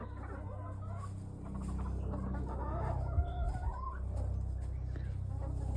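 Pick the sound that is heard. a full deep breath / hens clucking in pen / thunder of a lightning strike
hens clucking in pen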